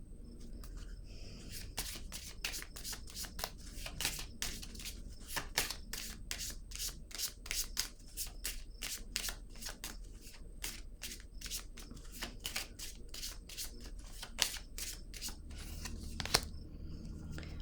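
Oracle cards being shuffled by hand during a card reading, a quick run of papery riffles and rubs that keeps going for many seconds, close and fairly quiet, with a slightly louder snap near the end and no talking.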